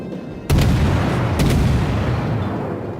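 A heavy naval gun salvo booms from the IJN Akatsuki destroyer during a World of Warships gun battle, one loud sudden blast followed by a second report and a long rumbling decay.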